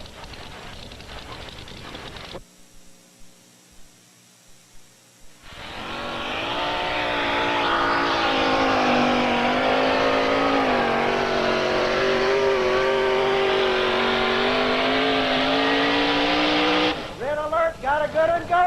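A 1991 Ford pulling truck from Bardstown, Kentucky, roars at full throttle during a truck pull, a sustained loud engine howl holding for about eleven seconds before dropping off, with brief crowd or commentary sounds around it.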